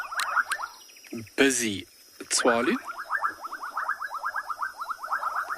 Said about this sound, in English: The sound in the background there is being a sound produced from a frog called a bubbling casina